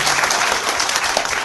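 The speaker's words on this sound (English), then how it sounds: "every time you guys are applauding" Audience applause fills a legislative hearing room, a dense, steady wash of many hands clapping at close range throughout, with no talk over it.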